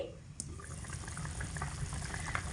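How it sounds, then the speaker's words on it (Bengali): A mustard and poppy-seed hilsa curry simmers gently in an uncovered pan on low heat, giving a soft, low bubbling that stays quiet and close. "ঢাকনা চাপা দিয়ে এটাকে ফোটানোর ফলে ঝোলটাও কত সুন্দর হয়ে গেছে"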